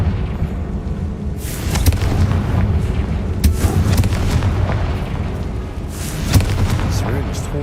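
Confringo fire-blast spell in the video game Hogwarts Legacy, loud booming blasts and crackling bursts layered over dense combat noise, with several sharper explosive hits standing out near the middle and end.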